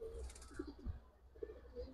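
Pigeons, Giribaz and coloring breeds kept by a seller in Old Dhaka, give soft low coos a few times over faint background noise, fairly quiet and close.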